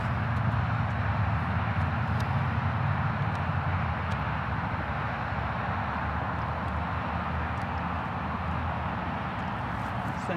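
Flyright's EPP Eagle R/C airplane hums in a steady, even drone as it comes in to land, fairly close and constant throughout, with no talk over it.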